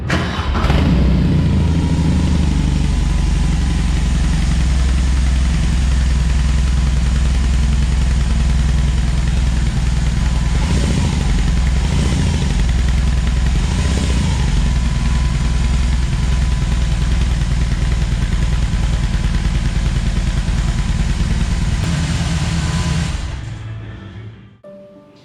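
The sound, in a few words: BMW R18 motorcycle engine through fishtail exhaust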